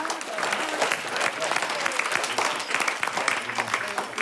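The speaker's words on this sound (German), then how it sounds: "Klatschen bitte für den Joshua Schmidli" An audience claps warmly for a guest named Joshua Schmidli, steady, dense applause close by that runs throughout, with a voice talking over it.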